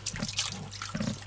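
River water drawn up by a pump spurts and splashes from a hose for washing at a riverside cordon, a close, loud, uneven gush with surging bursts.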